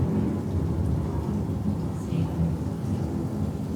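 Heavy rain pours down steadily in a theme park attraction show effect, with low rumbling thunder rolling beneath the dense hiss of the downpour throughout.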